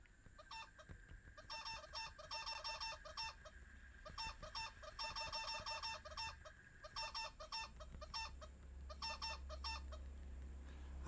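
Chickens clucking in the Wizzwoods farming video game, a steady run of rhythmic, repeated cartoonish clucks in quick bursts, clear and alone with no voices.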